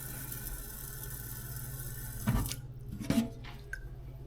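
Water is poured from a tap into a pot of rice before cooking in a rice cooker, a steady faint stream with a couple of brief louder splashes near the end.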